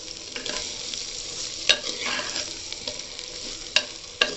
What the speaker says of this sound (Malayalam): ആ ക്രഷ് ചെയ്ത കിഴങ്ങ് നമ്മൾ ഇവിടെ ചേർത്തിട്ട് നമുക്ക് ഒരു മിക്സ് ആക്കാം.